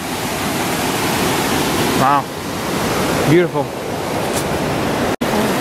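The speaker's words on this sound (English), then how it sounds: "The water pours down and the trail goes behind it." Steady rush of water pouring down at a waterfall on Eagle Creek, Oregon, where the trail passes behind it; a continuous loud roar fills the clip while a person briefly speaks over it.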